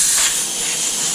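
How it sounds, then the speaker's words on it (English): Contact cleaner sprays from an aerosol can onto a Smith & Wesson M&P9 2.0 pistol in a loud, close, steady hiss that lasts the full moment without a break. "I like to start off with just using some contact cleaner"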